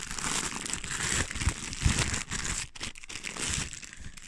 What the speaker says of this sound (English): I'm just gonna rip it open.